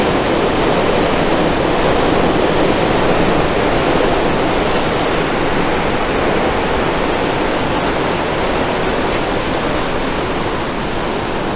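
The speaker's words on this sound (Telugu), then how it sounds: "ఇక్కడ బాగా ఫుల్ గా ఫ్లో అవుతున్నాయి వాటర్।" Water rushes out of the open gates of Pinnapuram Dam at Panyam, Nandyal, a loud, steady, unbroken roar with no pauses and no voices.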